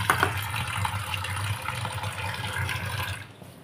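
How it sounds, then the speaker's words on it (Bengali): Split pea lentils, matar dal, are washed in water, with a steady splashing and swishing close by that continues for several seconds before fading out. "আগে ডালটাকে প্রথমে একটু ভালোভাবে ধুয়ে নিই।"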